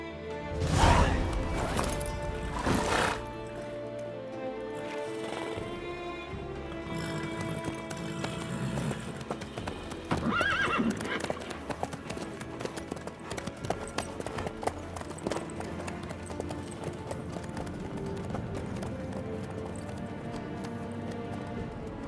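A horse in The Witcher 3 clip-clops along with steady hoofbeats, amid game ambience and music, with a louder burst near the start and occasional sharper accents; a brief whinny may sound.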